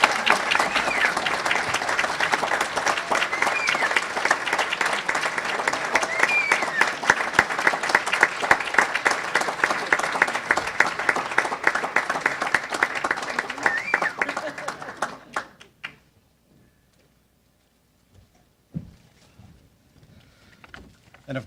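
Audience applause at a private gathering, a strong burst of clapping that holds for about fifteen seconds and then dies away to near quiet with a few stray claps.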